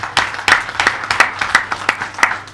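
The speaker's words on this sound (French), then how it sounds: "Je vous demande vraiment de vous applaudir." Audience clapping after a call to applaud a customs revenue increase, a few seconds of sparse, uneven individual claps rather than a dense ovation, moderately close.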